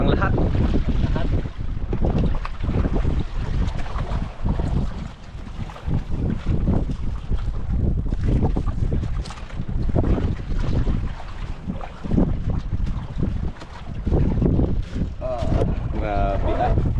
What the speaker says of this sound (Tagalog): Lakas ng hangin, amihan.